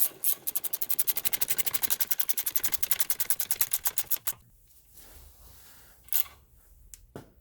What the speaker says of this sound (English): get your ratchet and thread this guy up